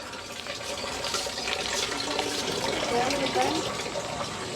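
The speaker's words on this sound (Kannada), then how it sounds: "ಇಲ್ಲಿ ನೀರು ಬೀಳ್ತಾ ಇದೆ" Water splashes steadily onto paver blocks laid in a cattle shelter yard, a close, continuous pattering spatter, with a voice talking over it.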